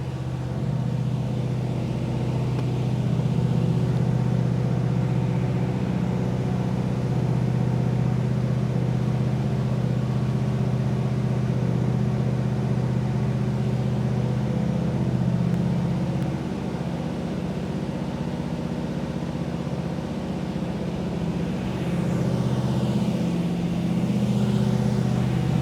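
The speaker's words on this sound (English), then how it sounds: "You can hear her revving up like that." A Chevy Blazer engine runs while warming up, giving a steady, fairly loud low rumble with slight swells in level and no voices over it.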